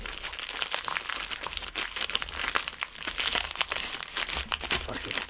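A foil-wrapped pack of baseball trading cards is torn and opened up close, with loud, continuous crinkling and crackling of the wrapper throughout.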